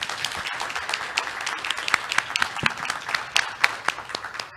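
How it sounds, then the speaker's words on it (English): Audience claps for panelists at a dialogue session, a close, moderately loud round of individual claps with distinct sharp hits throughout, no talking over it. "Let's give our panelists a round of applause."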